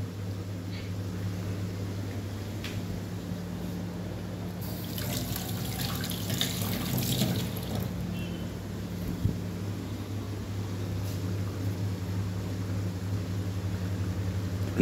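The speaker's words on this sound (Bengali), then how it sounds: "একটু হাতটা ধুয়ে নিই।" A kitchen tap runs steadily while hands are washed under it. The water hisses continuously over a low background hum, with a brief louder splashing burst partway through and no talk.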